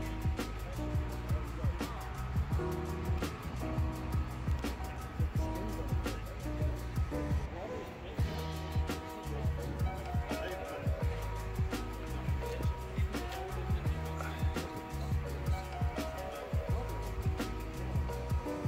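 A 1971 small-block Mopar V8 runs steadily and loudly up close, its deep engine rumble continuous throughout with faint voices mixed in.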